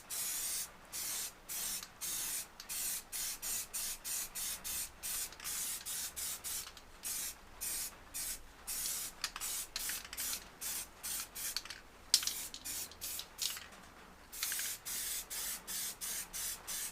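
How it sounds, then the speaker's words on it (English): Grey primer sprayed from an aerosol can onto Ford Fiesta ST180 headlights, heard as a long run of quick, close hissing bursts with brief gaps between them, steady and moderately quiet with no voices. "I'm going to hit it with some grey primer, prime them"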